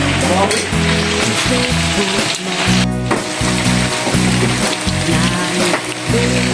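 Fried chicken sizzles and crackles loudly in hot oil, a steady close-up frying hiss with bubbling and occasional stirring clatter throughout.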